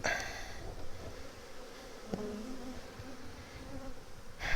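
Honey bees buzz continuously around hives during a colony inspection before splitting, a steady, moderately close drone with a brief sharper sound midway.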